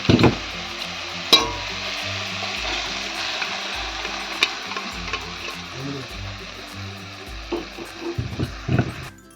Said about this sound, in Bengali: সেদ্ধ করা ডালটা আমি ঢেলে দেবো